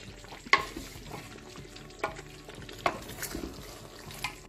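Yam porridge with meat and spring onions is stirred in a pot, a low simmering bubble broken by several sharp spoon clacks against the pot's side at uneven intervals.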